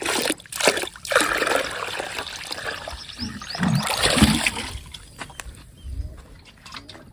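Water splashes and trickles steadily into a basin, with sloshing and occasional louder pours, fairly close.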